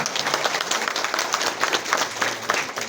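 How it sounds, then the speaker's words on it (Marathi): Audience applause at an awards distribution ceremony, energetic clapping from a crowd with rhythmic surges, loud and close, with faint voices mixed in. "त्यांच्यासाठी जोरदार टाळ्या।"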